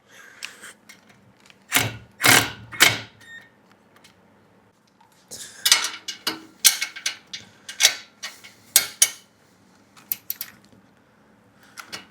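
Metal tool used like a wrench to tighten the mount of a Fire Power LC2 jug rack, giving irregular clicks and ratcheting clatters in short clustered bursts with quiet gaps between them.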